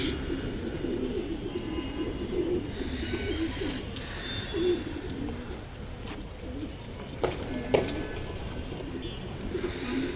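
Racing pigeons coo softly and repeatedly inside a loft, with scattered flutters and small knocks around them.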